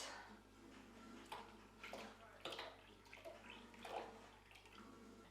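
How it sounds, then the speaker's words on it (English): A milk and water mix is poured into pancake batter of beaten eggs for traditional Irish pancakes, a close, steady liquid pour with soft splashing and sloshing pulses throughout. "Then I'm going to add my milk and water mix."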